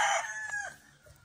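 A gamefowl rooster, a cross of black hatch, kelso and sweater lines in a backyard farm, crows once up close and loudly, the call fading quickly into quiet.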